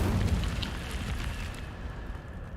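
Casting the Incendio fire spell in Hogwarts Legacy produces a loud, rushing whoosh of flame, dense and roaring at the start, then thinning into a crackling hiss as it fades.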